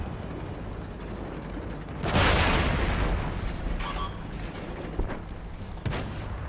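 Heavy tank cannon shots boom across a tank video game battlefield, one big blast trailed by a rumbling roar and then a few sharper, shorter reports, all set against a steady mechanical engine drone.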